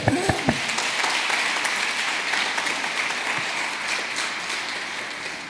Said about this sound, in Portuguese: Vamos aplaudir Jesus Cristo.